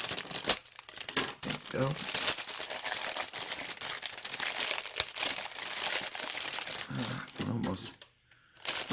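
Air purifier filter packaging is cut open and pulled apart, giving loud, continuous crinkling and tearing of plastic close by, with a brief spoken remark near the end.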